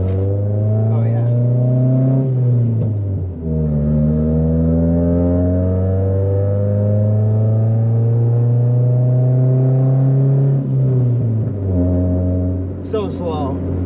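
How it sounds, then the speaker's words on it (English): A modified Honda Civic EK on upgraded coilovers and brakes drones loudly from inside the cabin. The steady engine note climbs, then drops with each gear change, a few times across the run. "just a little bit of rubbing and stuff when we go around corners"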